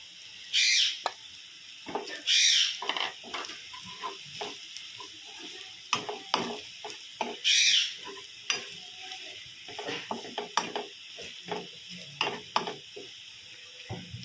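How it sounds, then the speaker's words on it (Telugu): Ground spices (garam masala, coriander powder, turmeric and chilli powder) are stirred into frying egg curry in a pan, with repeated scraping strokes and soft sizzling, close and fairly quiet. "గరం మసాలా ధనియాల పౌడరు పసుపు కారం ఇవన్నీ వేసేసుకొని మిక్స్ చేసుకోవాలి"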